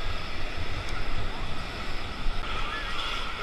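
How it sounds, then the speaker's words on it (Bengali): Sea waves rolling in at Puri beach, a constant hiss and rumble of surf with wind buffeting the microphone, close and steady, with faint voices in the background. "আবার একটা ঢেউ আসছে, ঢেউটা খেয়ে চলে যাবো।"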